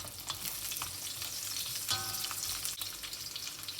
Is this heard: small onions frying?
yes